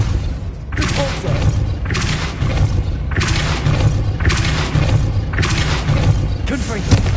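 Repulso spell casts in the Hogwarts Legacy video game, heard as a series of about five strong whooshing bursts with booming thuds at a steady rhythm, loud over continuous game noise, with voices calling out between them.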